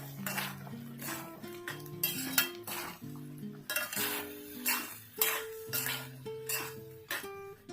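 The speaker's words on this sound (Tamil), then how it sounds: "இப்போது ஃப்ரை பண்ணி வச்ச மஷ்ரூம் போட்டுக்கலாம். இப்போ நல்லா கலந்து விட்டுக்கலாம்." Fried mushrooms stirred in a pan for mushroom ghee roast, with repeated metal scraping and clinks of a utensil against the pan in an uneven rhythm, close by, over soft background music.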